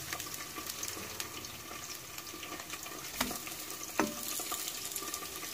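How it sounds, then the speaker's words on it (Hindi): Potato kebabs (kache aloo kabab) shallow-frying in hot oil, giving a steady, close sizzle with a few sharper pops and spatters. "तो चलिए अब हम इसे करते हैं फ्राई और एक तरफ से ब्राउन होने के बाद हम इसे पलट लेंगे।"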